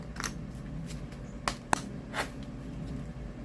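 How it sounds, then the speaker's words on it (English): Tarot or oracle cards shuffled for a reading, a few soft riffling swishes and one sharp snap over a quiet room, faint and brief, no talk. "so let me just give it one more shuffle"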